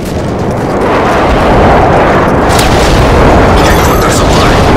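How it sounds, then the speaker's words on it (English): Predator missile strikes and an airstrike pound an online military shooter match, one continuous loud roaring barrage of booming explosions with no clear gaps. "Friendly Predator missile inbound. Friendly airstrike on the way."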